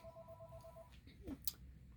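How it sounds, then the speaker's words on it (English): A telephone rings faintly in the background of a workshop, a thin steady electronic tone lasting under a second before fading into low room noise. "Excuse the phone in the background."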